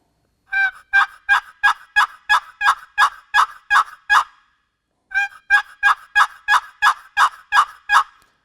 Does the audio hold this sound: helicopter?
no